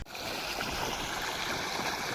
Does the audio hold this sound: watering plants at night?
yes